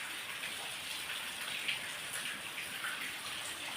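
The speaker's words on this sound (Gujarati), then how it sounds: "વરસાદ વરસી રહ્યો છે." Steady morning rain falls in a continuous, even hiss of drops with a faint watery patter, no voices, holding at a moderate level throughout.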